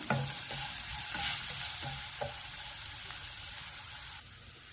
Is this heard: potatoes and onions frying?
yes